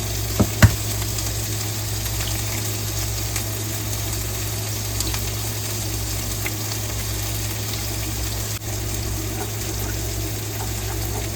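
Burgers and eggs frying together in a pan give off a steady, even sizzle with a low hum beneath it, plus a couple of faint clicks near the start and no talking.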